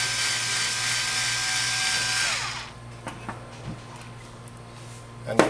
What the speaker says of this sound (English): I'm using, in this case, a tool to quickly remove the screws.